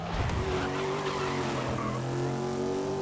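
Corvette in the racing video game GRID 2019 with a steady engine drone and squealing, skidding tires, loud and continuous throughout.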